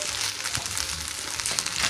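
Grated potato galette sizzling in olive oil in a pan over fairly high heat, a loud continuous frying crackle with small pops and stirring scrapes, no voices.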